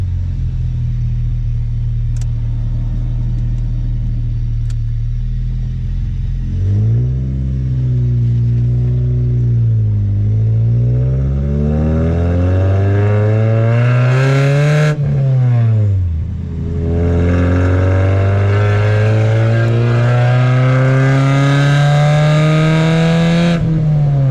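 A loud 1999 Honda Civic engine rumbles at idle, then revs up repeatedly, the pitch rising and falling in strong surges, close and with no talking.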